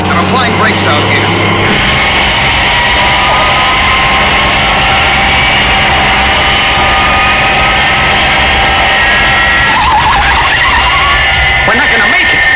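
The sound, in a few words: vehicle braking hard on the runway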